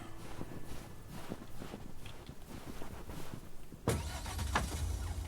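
A truck in the video game Lake starts up with a burst of engine noise partway through, then runs steadily. A few soft footstep-like taps come before it, all fairly faint.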